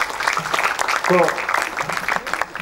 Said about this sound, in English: Let us begin with an applause.